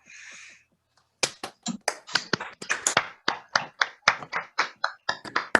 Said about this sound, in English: we can give Ned a round of applause